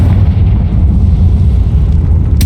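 Confringo blasting spell exploding in Hogwarts Legacy, a loud, dense booming burst with deep rumble filling the whole moment, ending in a sharp crackle.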